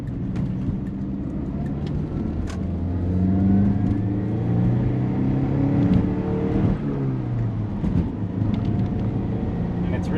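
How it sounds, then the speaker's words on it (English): A Chrysler Conquest TSi from the 1980s drives along, its turbo whistling and spooling up and down in rising and falling sweeps over a steady engine drone, heard from inside the cabin at moderate volume. "you can hear the turbo spooling up all the time"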